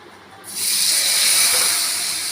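Quiet at first, then a sudden loud, steady hiss as semolina batter hits a hot tava and keeps sizzling.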